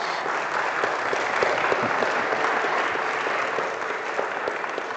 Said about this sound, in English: keep that applause for later